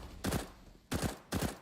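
Counter-Strike: Global Offensive gunfire, with three separate bursts of shots from a USP pistol during a professional match, each sharp and punchy, spaced roughly half a second apart with no talking.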